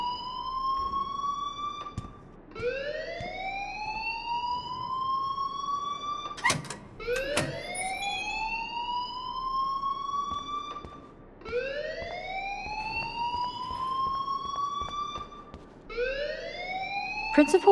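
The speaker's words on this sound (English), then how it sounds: "please turn off that alarm since that's your job" A school fire alarm in the video game Life is Strange sounds a repeating rising electronic whoop, each sweep climbing in pitch for about four seconds, loud and steady, with brief sharp clicks and no talk.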